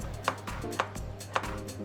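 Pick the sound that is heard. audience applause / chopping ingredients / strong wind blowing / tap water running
chopping ingredients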